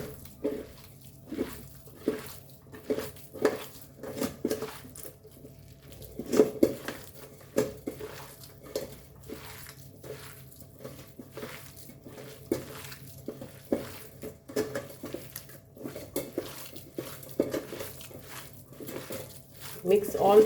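Sabudana vada mixture of tapioca pearls, spices and garam masala being mixed in a bowl, soft rhythmic squelching and clinking taps repeating steadily, close and quiet, with occasional low speech in the background.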